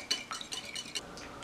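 A whisk clinks and scrapes rhythmically against a bowl, mixing a third of a cup of milk into the contents, in quick, faint, close metallic strokes.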